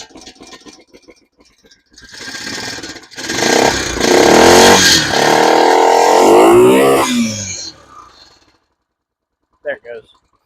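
A Honda-powered golf cart engine, started on choke after sitting for ten years, runs with a loud revving, rattling drone for several seconds before cutting out, leaving brief quiet with a short sound near the end.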